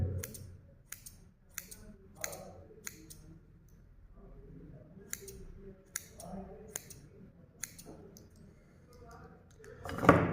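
Freshly sharpened scissors tested by cutting cotton, giving a series of crisp snipping clicks in irregular bursts, close and fairly quiet, with soft background noise between cuts.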